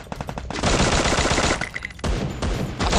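Rapid automatic gunfire from the Free Fire video game rattles in dense, loud bursts of overlapping shots, with a brief break and a few high beeps before the firing resumes.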